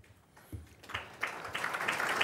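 Audience applause builds at a political breakfast talk, starting as scattered faint claps and swelling into steady, moderately loud clapping from a seated crowd.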